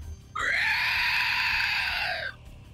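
A human voice imitates an eldritch screech for a fantasy tabletop role-play character conjuring waffles: one sustained, shrill, harmonic shriek lasting about two seconds, loud and close, starting abruptly and cutting off cleanly.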